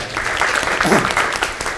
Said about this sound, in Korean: 대표님께 다시 한번 박수 한번 부탁드리겠습니다